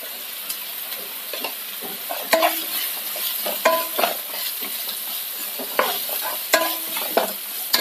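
Curry leaves, garlic and ginger sizzle in hot oil in a pan while a spatula scrapes and taps against the metal in irregular clicks, a close, busy frying sound with no talking.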